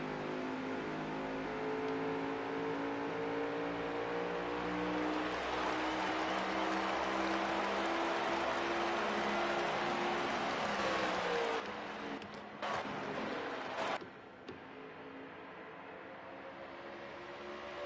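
A race car in a racing video game drives down pit road at World Wide Technology Raceway, giving a loud, steady engine drone that holds for most of the stretch before briefly cutting out and dipping near the end.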